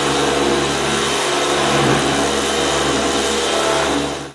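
A Kuwzty orbital sander fitted with 60 grit paper runs continuously, a steady, loud motor whine with a buzzing hum that holds even throughout and cuts off at the end.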